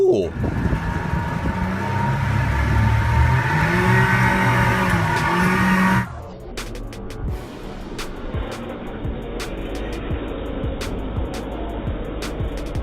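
A motorboat engine roars steadily at high revs, then drops to a lower rumble with water splashing and clattering noises.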